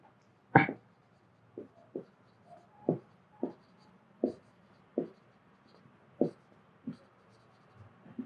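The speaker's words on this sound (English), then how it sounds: "So let me just write the final statement." Pen strokes writing out a final maths statement: a series of short, soft scratching bursts in an irregular rhythm, close and quiet with no talk.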